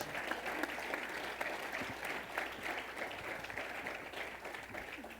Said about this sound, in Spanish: Por favor, acompáñenme con un aplauso y muchísimas gracias.